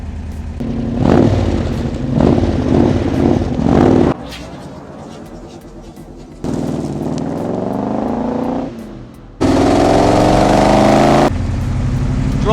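Loud V8 of an AC Cobra 427 SC replica on the road, still being run in, with engine note rising through gears in several distinct segments, abrupt cuts between them and rough rumbling between pulls.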